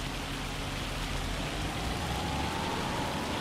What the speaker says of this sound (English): This is hail. And the noise that comes off is pretty cool as well.